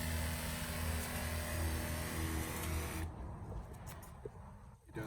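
A battery-operated Strom electric backpack sprayer gives a steady, loud hissing spray with a low motor hum over a yard for about three seconds, then cuts off, leaving quieter outdoor background with faint clicks.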